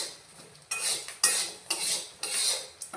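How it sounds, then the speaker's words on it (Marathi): Chickpeas roasting in hot sand, pushed around with steady strokes: rhythmic gritty scraping swells, about five close, loud sweeps of sand with no talking. "गरम रेती चण्यावरती ढकलत जायचं. आता बघा फुटायला सुरुवात झालेली आहे."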